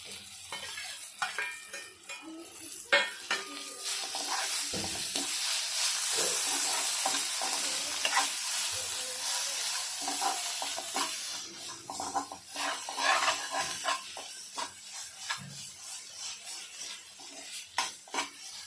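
Ground garlic and coriander masala paste sizzles and crackles in a hot pan, with repeated scraping strokes of a spoon stirring it, close by and fairly quiet.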